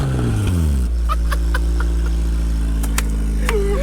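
A 2000 Honda Accord with the F23 engine revs hard toward redline, a loud steady engine drone holding high under sharp intermittent clicks and a brief whistle near the end.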